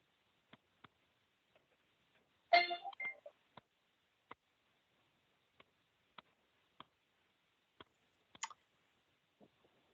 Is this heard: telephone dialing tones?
yes